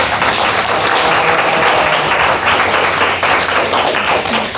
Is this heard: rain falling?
no